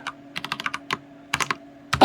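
Quick bursts of computer keyboard typing as code is entered, crisp close clicks in short clusters separated by brief pauses.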